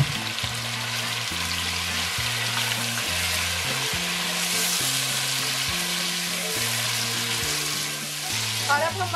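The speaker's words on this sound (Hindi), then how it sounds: "अब हम मटन को अच्छे तरीके से भूनेंगे जब तक कि मटन का कलर चेंज ना हो जाए" Mutton with ginger garlic paste frying in a pot makes a loud, dense, unbroken sizzle, with a steady tonal melody playing underneath throughout.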